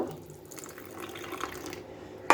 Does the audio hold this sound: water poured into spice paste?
yes